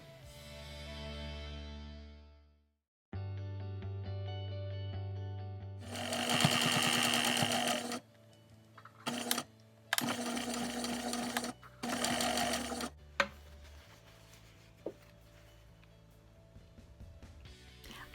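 Sewing machine stitching lace onto a cloth napkin, a close, rapid mechanical whirr running in several bursts of varying length with short stops between, starting, backtracking and continuing.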